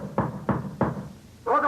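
Three sharp, evenly spaced knocks on a door ring out close and loud, followed by the start of a voice.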